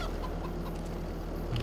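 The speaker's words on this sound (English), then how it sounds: "And finally, chickens. Chickens are a curious lot." Chickens in the farming video game Farming Simulator 25 cluck softly and intermittently against a continuous low background hum, faint and close-set.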